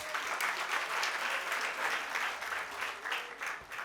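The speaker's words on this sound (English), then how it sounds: "Can we please have another round of applause?" An audience at a student debate event breaks into applause, a steady wash of many people clapping that swells and ebbs slightly and is heard from somewhat distant and fairly quiet.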